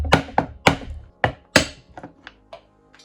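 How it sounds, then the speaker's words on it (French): Chisel tapped against a plastic weld point on a car panel, a run of sharp wooden knocks, five louder ones then several lighter, quicker taps, close and alone without talk. "Et tu vas venir taper gentiment pour venir chasser ton point de soudure plastique."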